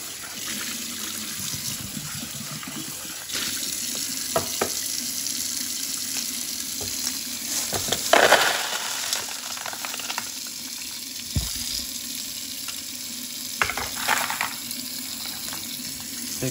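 Tap water runs steadily into a vibratory rock tumbler barrel being rinsed out, with splashing and sloshing as the water hits the container and a few louder bursts as it is swirled.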